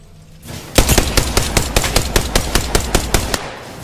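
Rapid automatic gunfire from a weapon in the Apex Legends video game, a fast even burst of about fifteen loud, punchy shots in close succession. Nobody talks over the shots.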